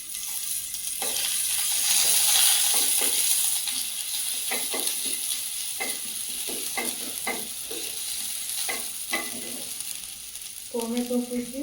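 Chopped ginger sizzles in a little hot oil in a home kitchen pan, a steady bright hiss with repeated scraping stirs, close and loud, ending in a few clinks.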